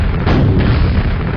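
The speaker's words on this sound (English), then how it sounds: "you can use the grenade launcher or the rocket launcher to sort of activate that button" Rocket or grenade launcher blast hitting a button in the video game Quake, a loud, heavy booming explosion with a rumbling low-end roar that fills the short moment.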